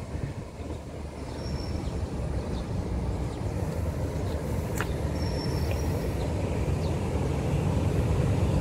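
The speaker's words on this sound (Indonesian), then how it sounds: "Ini akan melintas kereta." A passenger train rumbles past near the Kebasen railway tunnels by the Serayu River bridge, a broad steady roar that grows slowly louder over several seconds, with no talking.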